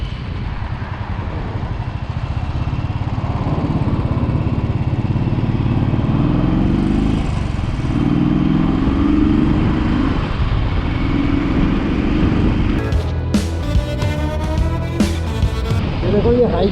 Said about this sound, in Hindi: क्योंकि काफ़ी टाइम बाद बाइक चलाई जा रही है।